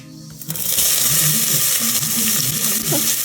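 Onion dropped into a hot pan with fennel seeds and curry leaves, bursting into a loud, sustained sizzle after a brief quiet start, with crackling and a little stirring.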